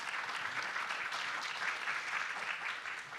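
An audience claps for a conference panel, sustained dense applause at an even level across the whole stretch, with no voices over it.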